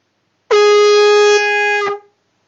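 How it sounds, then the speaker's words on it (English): A single sustained blast from a homemade conch shell horn, a steady bright hooting tone of about a second and a half that drops slightly in level before cutting off, alone in silence. "press your lips tightly to the sound hole on the conch shell horn and blow it"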